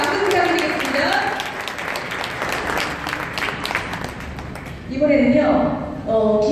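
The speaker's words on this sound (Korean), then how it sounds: "큰 박수 부탁드리겠습니다." A crowd claps at a commemoration ceremony marking the 94th anniversary of independence activist Kim Sang-ok's struggle. The applause is loud and sustained, with a voice speaking over it before it fades and clear talk takes over.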